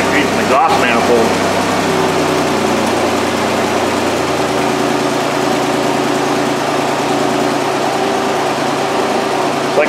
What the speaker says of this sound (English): So I can hear the idle tuning down a little bit.